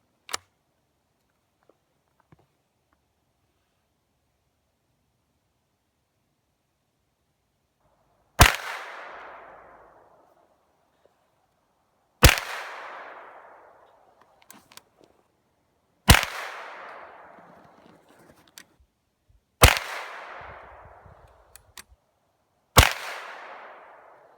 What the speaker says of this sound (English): we're setting up 9mm, 5 shots at the target with my double barrel